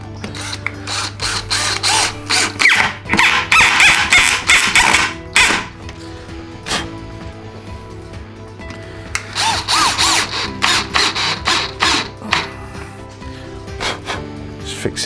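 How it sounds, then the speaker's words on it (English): A power drill drives screws into a wooden windowsill while fitting wooden shutters: two loud bursts of whirring motor, each a few seconds long, separated by quieter handling noises and short clicks. "I need to drive a couple of screws in the bottom"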